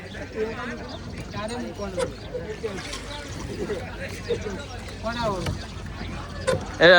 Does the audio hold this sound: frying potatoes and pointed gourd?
no